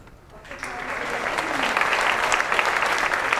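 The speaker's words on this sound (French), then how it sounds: "J'aimerais qu'on applaudisse aussi Jean Lassalle." Audience applause at a potato festival in Ploeuc-L'Hermitage, Brittany, building from scattered claps into steady, dense clapping that holds at full strength.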